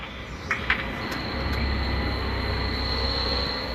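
Tram driven in a city public-transport driving simulator game, a steady low rumble of rolling wheels with a high whine, a couple of brief clunks early on and no talking.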